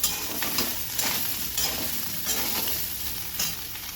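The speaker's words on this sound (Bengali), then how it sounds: "সয়াবিনটাও কিন্তু ভালো করে ভেজে নিতে হবে" Soybean chunks frying in a pan give off a dense, continuous hiss of hot oil, with soft periodic swells as they are stirred, close up and with no voices.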